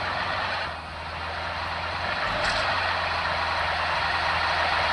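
A truck in a battle-royale shooter video game drives along slowly with a steady, loud engine drone that holds through the whole stretch, with a brief dip near the start and no talking.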